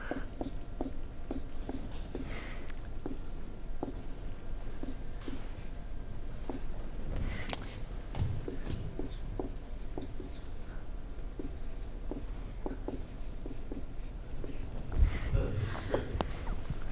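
Marker or chalk scratching across a board in a classroom, a series of short strokes and taps at a moderate pace under a quiet room background, with some talk around it.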